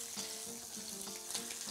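Honey-glazed ribs seasoned with paprika sizzle in a hot pan, a close, steady crackling hiss with a faint tonal hum beneath and no talk.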